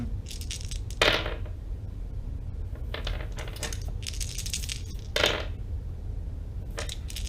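Several tabletop role-playing dice clatter and tumble across a hard surface in quick, bright rattling bursts, with two sharper impacts, close up and separated by short pauses, with no talking.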